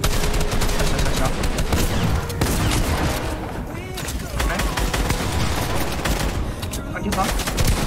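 Rapid gunfire in Fortnite, dense bursts of shots rattling through most of the stretch with brief lulls, loud and close, mixed with other game effects.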